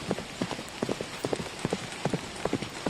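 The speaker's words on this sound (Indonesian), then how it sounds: "Tiba-tiba suara roda kereta kuda dan derap kaki kuda terdengar dari kejauhan." A horse-drawn carriage approaches at night, its hoofbeats falling in an even clip-clop rhythm over a hiss of rolling wheels, quiet and somewhat distant.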